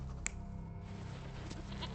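A goat bleats briefly in the Sherlock Holmes: Chapter One video game, a short faint cry over a low humming game backdrop.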